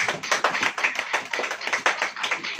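Rhythmic clapping from a congregation during a church service, quick repeated claps in a steady beat filling the room at moderate loudness, with no talking.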